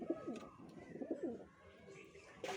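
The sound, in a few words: pigeons cooing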